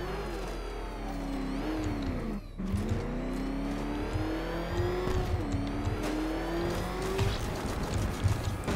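The Batmobile roaring through the Batman: Arkham Knight game, a loud close engine revving up and down with tire squeal and a brief dip mid-drive, continuous throughout with no talking.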